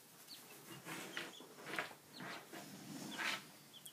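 Chickens in a small backyard coop give a string of soft clucks and short chirpy calls, moderately close but fairly quiet, with uneven pauses between bursts.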